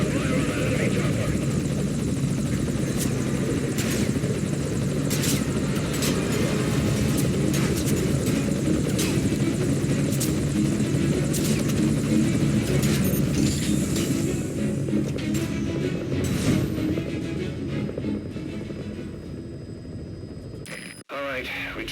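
Enemy helicopter in the video game Metal Gear Solid V: Ground Zeroes, a loud, continuous rotor roar with scattered gunfire-like cracks on top, holding steady and then cutting off abruptly near the end.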